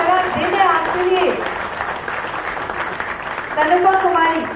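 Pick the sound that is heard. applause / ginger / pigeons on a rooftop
applause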